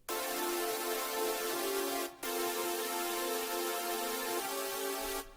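A processed synth pad plays a sustained pre-chorus chord progression, bright and dense, holding each chord with a short gap at one change; it is steady and alone, with no voices over it.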